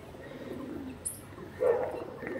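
Pigeons in a loft give a low, soft coo partway through, over steady quiet background noise, with a brief high chirp just before it; no one speaks.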